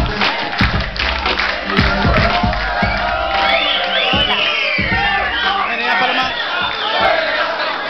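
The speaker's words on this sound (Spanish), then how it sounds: "Un aplauso para Paloma" A television studio audience cheers, whoops and claps as a guest is called onto the stage, loud crowd shouting swelling over scattered applause, with voices calling out throughout.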